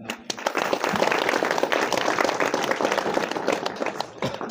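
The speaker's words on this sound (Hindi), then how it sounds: "इन लोग जोरदार ताली बजा देंगे" A church congregation at a thanksgiving Mass breaks into warm, sustained applause for welcomed guests, dense clapping from many hands filling the hall at a steady level.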